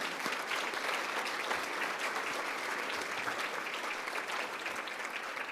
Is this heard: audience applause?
yes